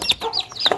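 Newly hatched chicks in a simple brooder box of cardboard and wire mesh peep nearby, with several thin, high chirps overlapping in a quick, uneven series.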